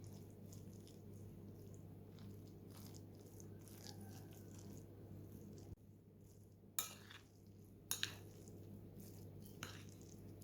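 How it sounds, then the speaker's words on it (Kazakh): A spoon stirring a soft cutlet mixture of potato and egg in a bowl, quiet wet squishing with a few sharp clinks against the bowl over a steady background hum. "Алдымен осылай бір келкетіп қасықпен араластырып алдық."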